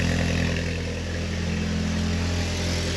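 A Mk2 Jetta engine idles steadily through a homemade exhaust with a leak close by, giving a loud, close, constant low rumble with no talk over it.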